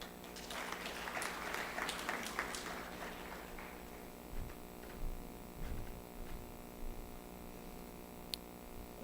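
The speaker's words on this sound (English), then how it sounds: "let's have a big round of applause for him" Applause from an audience that swells briefly then thins to scattered claps, fading into a quiet room with a steady electrical hum.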